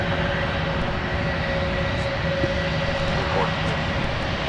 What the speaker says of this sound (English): Well, there's the other engine starting up.